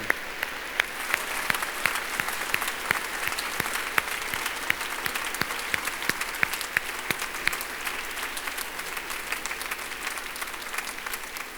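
Sustained applause from a congregation during a diocesan pilgrimage Mass in church, steady and reverberant at moderate volume, with a few sharp, distinct claps standing out from the dense patter throughout.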